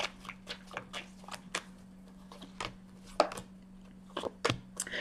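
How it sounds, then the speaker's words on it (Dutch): A deck of oracle cards is shuffled by hand, giving a run of quick, crisp riffling and slapping bursts in an irregular rhythm, close and fairly quiet, with no voices. "Ik ga de kaarten schudden om te kijken wat week 21 voor de vissen gaat brengen."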